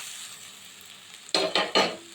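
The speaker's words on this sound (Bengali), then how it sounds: "শাকগুলো দিয়ে হালকা হাতে এবার নাড়াচাড়া পালা" Jute greens fry with garlic and onion in a pan over low gas. A faint sizzle underlies three quick, loud stirring scrapes near the end.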